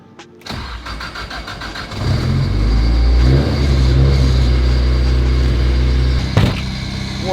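A Nissan S14 Silvia cranks briefly on a dyno, then its engine catches and settles into a loud, rough idle, with a sharp blip near the end.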